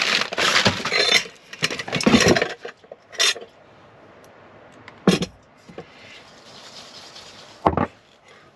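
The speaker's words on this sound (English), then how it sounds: "Now I'm gonna pull out my cooking utensils." Cooking utensils are pulled out and handled inside a van, with a few scattered metallic clatters and rummaging knocks, separated by quiet stretches, close and fairly loud, with no talking.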